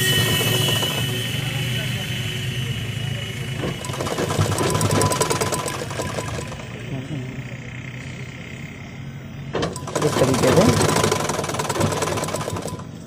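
A sewing machine stitches a piping strip onto a blouse, running in loud continuous rattling bursts that speed up and slow down, with short pauses between runs.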